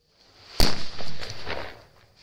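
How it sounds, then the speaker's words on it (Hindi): A Laxmi bomb firecracker goes off in a single loud, sharp bang during a night of fireworks testing, followed by a brief crackling echo and rumble that fades. "इस लक्ष्मी बम की टेस्टिंग और देखते हैं ये कैसा धमाका करता है"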